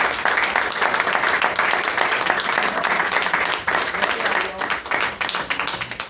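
A church congregation claps loudly together during a sermon, a thick sustained burst of handclaps that stays strong and even for several seconds before thinning slightly near the end.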